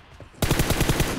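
Rapid burst of automatic gunfire in PUBG Mobile, about seven close, loud shots in steady rhythm after a brief quiet lead-in.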